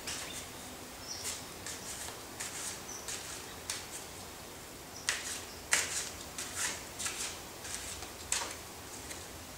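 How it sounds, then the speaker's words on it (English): Someone shuffles a small pack of fairy oracle cards, making soft, irregular papery flicks and riffles that are quiet and close, with a faint steady hum in the background. "what I'm going to do is shuffle this little pack and we'll see what message comes out for us."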